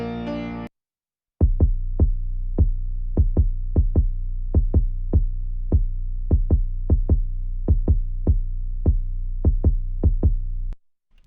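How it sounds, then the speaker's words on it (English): A deep 808 bass and kick drum hit together in a steady pattern, each punchy low thump with a sustained boom, loud and alone with no voices. "what you're hearing is the 808 and a kick drum"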